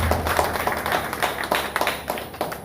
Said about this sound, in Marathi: एकदा जोरदार टाळ्या आपल्यासाठी